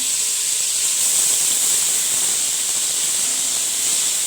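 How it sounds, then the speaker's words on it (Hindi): Ginger garlic paste frying in a small amount of oil for a goat trotter and bone curry, giving a steady, even hiss that stays close and constant throughout, with no talking. "हम ये डालेंगे अदरक लहसुन। अच्छा सा भूनेंगे इसको"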